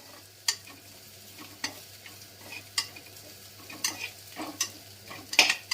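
Ginger garlic paste frying in a pot while a spoon stirs it, giving a low continuous sizzle broken by sharp, irregular scrapes and clinks against the metal.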